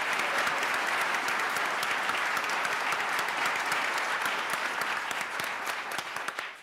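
Audience applauding at a judge's swearing-in ceremony, a dense, sustained wash of many hands clapping at moderate distance, steady throughout and tapering slightly at the end.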